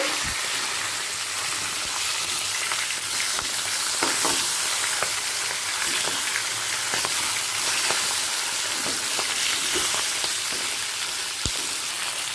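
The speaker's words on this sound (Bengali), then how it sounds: "মাছের একটা পিঠ ভাজা হয়ে গেছে অপর পিঠটাও" A katla fish head fries in oil with a constant hiss, dotted with occasional sharp pops and crackles.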